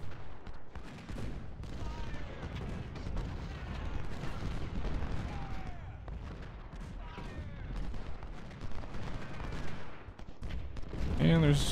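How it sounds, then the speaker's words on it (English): Artillery and musket fire rumble through a Civil War battle in the strategy game Ultimate General: Civil War, a dense continuous fusillade with booming cannon shots, while someone talks over it at times. "And there's artillery on your flank, Frank."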